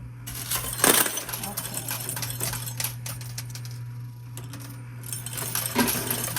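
Coins clatter and drop inside a high-limit coin pusher arcade machine, a busy metallic jingle with a sharp burst near the start and another toward the end over a steady mechanical hum and arcade noise.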